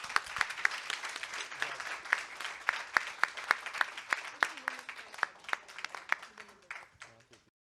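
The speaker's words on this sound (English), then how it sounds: "Let's give them all a round of applause." Audience applause at a formal law and policy debate, as debaters cross the House: steady, dense clapping from a crowd for about seven seconds, with sharper individual claps on top before tapering off.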